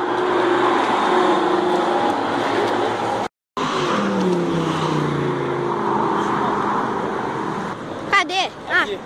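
A Porsche sports car accelerates past on Avenida Europa in São Paulo, its engine swelling through steady street traffic while people talk excitedly over it, with a brief dropout midway.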